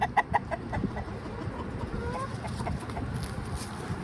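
Chickens cluck close by in a few short, sharp bursts at the start, then keep up softer, scattered clucking over a low, rustling background.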